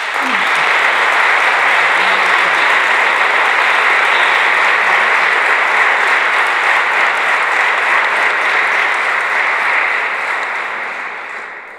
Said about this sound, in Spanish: os pido ese aplauso especial para todos ellos.